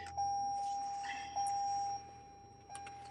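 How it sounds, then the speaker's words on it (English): A car's warning chime beeps steadily in a dark parked car just after starting, a high repeating tone under a low engine hum, with pulses at regular intervals. "Let me get this thing to stop beeping"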